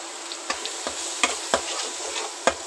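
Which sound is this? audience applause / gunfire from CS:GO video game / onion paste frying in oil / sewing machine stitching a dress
onion paste frying in oil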